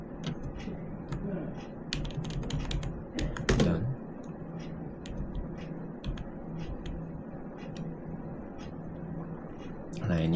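Fingers type on a computer keyboard while a Linux Ubuntu Server installation is being set up, with steady clicking throughout, a few sharper key presses, and someone talking over it.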